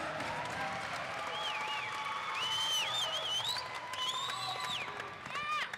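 An audience at a combat sports event applauds two fighters after their bout, a fairly faint spread of clapping and crowd noise with whistle-like tones and cheers rising over it.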